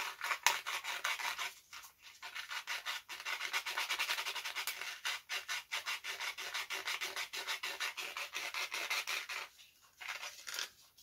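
Sanding a part for a Guillow's Nieuport 11 model airplane being converted to radio control, with steady rhythmic rasping strokes, loud and close, pausing briefly now and then, no voices.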